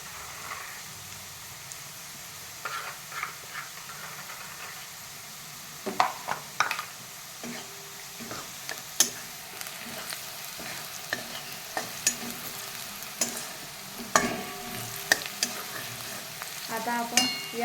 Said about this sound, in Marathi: इथे कांदा मिरच्या चांगल्या तळलेल्या आहे। यामध्ये मी हळद टाकते।